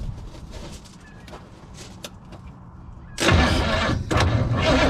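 A seized engine cranks with spark attached, trying to fire: a loud, steady churning starter-and-engine roar bursts in partway through after quieter background sounds, close and continuous to the end.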